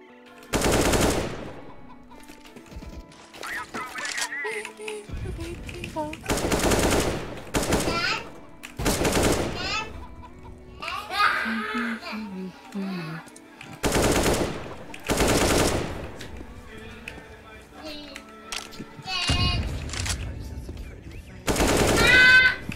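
Repeated bursts of automatic and single gunfire in the video game CS:GO, loud and sharp with short gaps between volleys, while a player talks excitedly between shots.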